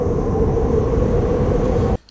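Winter blizzard wind as a sound effect, a dense, loud, low roaring rush that holds steady and then cuts off abruptly near the end.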